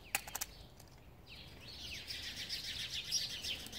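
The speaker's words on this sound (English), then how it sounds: "Goddamn birds." Birds chirping outdoors, faint high calls and short sweeping tweets repeating over a few seconds, distant and alone without speech.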